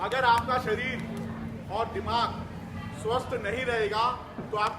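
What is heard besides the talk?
No everyday noise stands out behind the speech.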